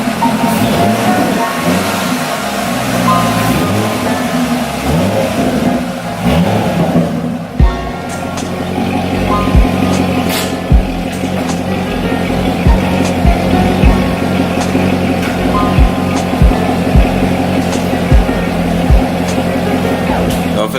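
A car fitted with an Airaid cold air intake drives down a street, its engine rumbling and revving loudly up close, with a gear change midway and repeated knocks or bumps as it rolls on.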